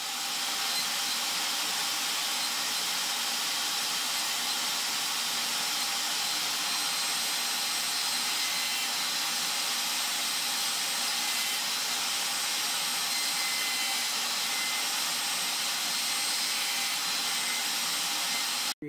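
A table saw cuts tenons for a custom veneered lamp, giving a loud, steady whirring roar that runs unbroken for the whole stretch, with no talking over it.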